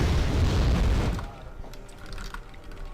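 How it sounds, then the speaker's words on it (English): Area-of-effect bombing in Wargame: AirLand Battle: a loud, close rumbling blast for about a second that drops to a lower crackling tail with scattered small pops. "So I'm taking no chances and doing a full area of effect bombing."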